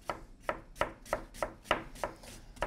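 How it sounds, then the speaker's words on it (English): Knife slicing through onions on a cutting board for a pasta dish, a steady run of crisp, evenly spaced chops about every third of a second, close and clear with no talk. "Slice up our onions."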